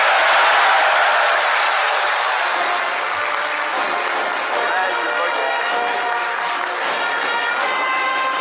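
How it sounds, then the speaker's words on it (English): A large crowd breaks into a loud, sustained round of applause at a political event after a president announces re-election, with steady clapping and crowd noise filling the whole stretch. "It was for me the round of applause when President Tinubu said that you are all re-elected."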